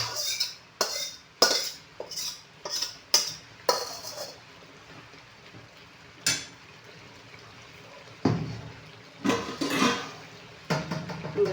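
Metal vessels and utensils handled in a home kitchen, giving a series of sharp clanks and knocks at irregular intervals, with quieter pauses between them.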